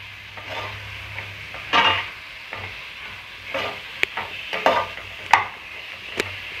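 A spoon stirs sliced tomatoes into sizzling onion masala for fish biryani, with scraping strokes and occasional sharp clinks against the pot over a low frying hiss, all close and with no talking.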